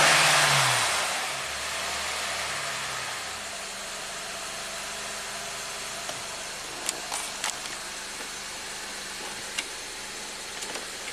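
A Honda Accord with a VCM misfire idles roughly and steadily, a low uneven engine drone with a few brief clicks and knocks near the end, no talking.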